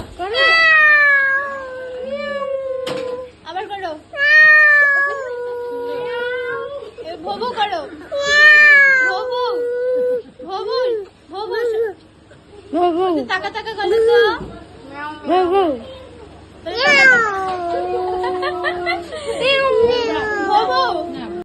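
A person repeatedly imitates a cat's meowing in drawn-out, wavering mews, close and fairly loud, with short pauses and some talking in between during a birthday gathering.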